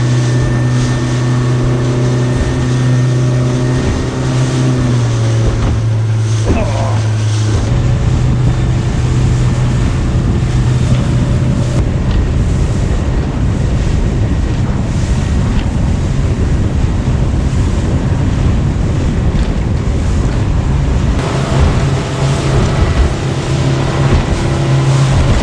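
A boat pounds through rough seawater on the ride home from fishing, with a steady loud engine drone, waves slapping the hull and heavy wind buffeting the microphone throughout.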